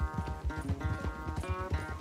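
A horse gallops at speed during a race in the Red Dead Redemption 2 video game, hooves drumming in a quick, close, rhythmic clatter alone for a couple of seconds.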